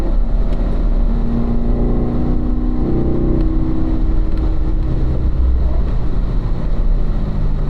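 A Corvette race car engine drones steadily on a warm-up lap of a track, a loud, continuous low roar with slight shifts in pitch as it pulls through the run toward turn one, with no voices.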